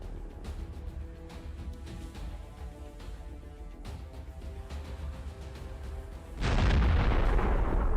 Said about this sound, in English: One hit is enough to immobilize the armored personnel carrier.